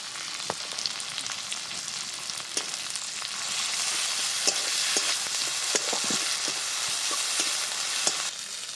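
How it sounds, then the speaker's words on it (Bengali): Ground spice paste frying in a pan for an egg and soybean curry, a steady close sizzle with scattered sharp pops and spatters that thickens and grows slightly louder midway, no voices. "এবার দিয়ে দিচ্ছি বেটে রাখা মশলা।"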